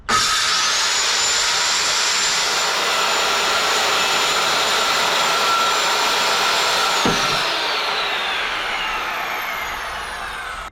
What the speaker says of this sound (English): I'm going to go ahead and use my new shop vac, and we'll suck up this plastic